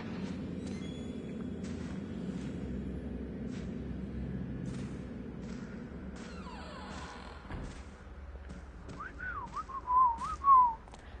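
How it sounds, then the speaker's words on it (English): A person whistles a short, wavering tune near the end, fairly close, over a steady low hum and scattered thumps from a horror video game. "Sometimes I can whistle, sometimes I can't."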